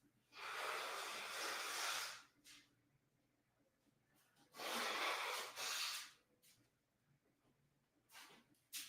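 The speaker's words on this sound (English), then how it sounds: "I'm going to have to blow my nose" Two long, forceful nasal blows, breathy and close, separated by quiet pauses, with a shorter huff near the end.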